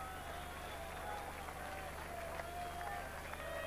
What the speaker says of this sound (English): The crowd have come alive.